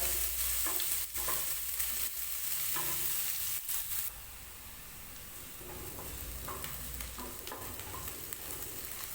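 Chopped onions sauté in a hot pan for homemade Maggi made from vermicelli, a steady close sizzle with a few stirring scrapes, louder in the first four seconds and then quieter.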